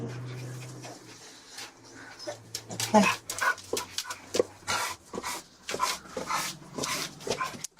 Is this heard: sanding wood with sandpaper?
no